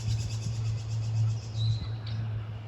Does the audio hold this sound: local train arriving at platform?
no